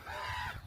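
A bird squawks once in a brief, harsh, honking call at an outdoor opal dig in Nevada, loud and close, with no talking over it.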